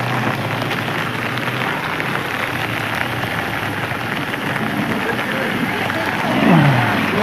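Heavy hail pounds down in Ludhiana, a dense, steady roar of ice striking surfaces throughout, close and loud, with a brief swell of louder drumming near the end.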